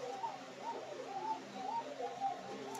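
A Rajshahi local Giribaz pigeon, a hen close to laying, coos softly and repeatedly in rolling, wavering phrases at close range against quiet background noise.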